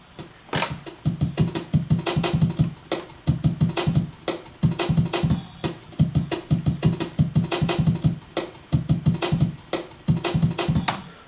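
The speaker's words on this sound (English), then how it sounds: "chop the sample up, so it sounds like this" Chopped drum break sample for a drum and bass rap beat, with punchy kicks and crisp snares and hats sliced into a fast, choppy rhythm that stops and restarts in short bursts, loud and close with no voices.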